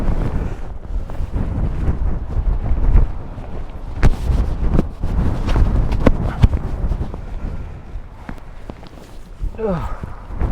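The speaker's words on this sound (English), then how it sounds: "That's how windy it is." Gusty wind buffets the microphone with low rumbling roars, punctuated by sharp knocks and thumps, while a voice speaks briefly amid the noise.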